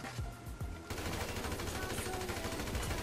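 Rapid bursts of automatic gunfire crackle through a GTA V online adversary match, dense and continuous after a few opening shots, fairly loud with game sound behind it.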